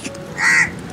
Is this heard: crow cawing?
yes